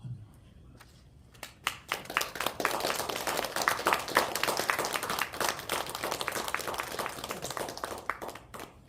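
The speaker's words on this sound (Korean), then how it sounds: "우리 박수로 환영합시다." Church congregation applauding during a Christmas worship service to welcome a speaker, a sustained patter of many hands clapping that builds after a quiet start and carries on steadily to the end, with murmuring voices underneath.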